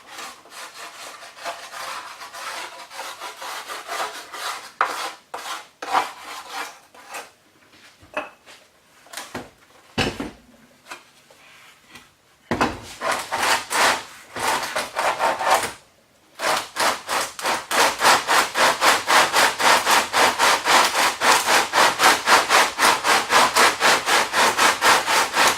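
Guitar kit rim with kerfing rubbed against sandpaper on a radius dish, loud rhythmic back-and-forth scraping strokes, irregular at first with pauses, then settling into a fast, steady sanding rhythm.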